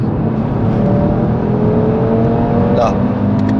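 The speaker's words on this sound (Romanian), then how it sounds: "Sunetul e de la ăștia 5 cilindri în linie" An Audi RS3's inline five-cylinder engine revs hard up close, a loud, throaty five-cylinder growl rising in pitch.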